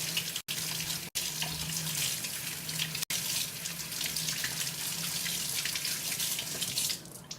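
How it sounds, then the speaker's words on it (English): Breast pump parts rinsed under a running tap at a sink, a steady loud rush of water splashing close by, broken by a few brief cuts, with no talking. "Let's give it a good scrub down and rinse."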